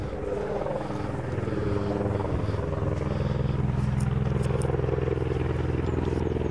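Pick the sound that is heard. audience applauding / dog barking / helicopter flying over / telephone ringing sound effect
helicopter flying over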